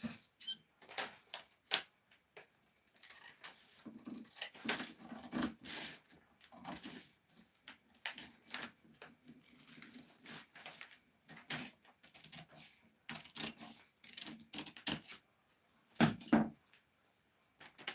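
Scissors cutting out a paper pattern for a lunch bag, a close series of crisp snips and paper rustles in an irregular rhythm against a quiet room.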